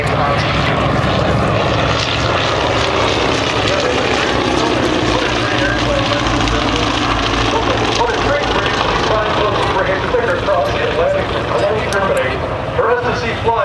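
A propeller aircraft flies at the Oshkosh AirVenture airshow, its engine drone loud and steady for the whole stretch, with a broad roar and no breaks.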